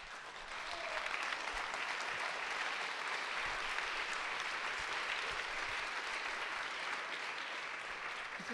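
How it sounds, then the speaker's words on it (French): Large audience in a hall applauds a speaker at an event, with sustained, even, broadband clapping heard from a distance for the whole stretch. "Ne m'applaudissez pas"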